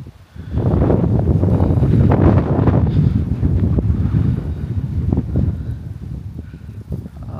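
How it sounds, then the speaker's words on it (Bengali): Strong storm wind blows across the microphone at a ranch under a cloudy sky, a loud, rough rushing roar that gusts heavily before easing slightly and continuing. "প্রচণ্ড বাতাস হচ্ছে।"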